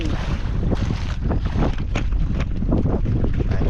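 A strong northeast monsoon wind buffets a boat heading home, a constant loud roaring rush with gusty surges and hull and water noise beneath.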